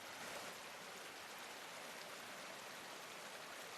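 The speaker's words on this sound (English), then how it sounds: "The sound of the rain needs no translation." Rain falling steadily, a soft, even hiss of drops with no variation in intensity, faint and distant, with no voices or other sounds.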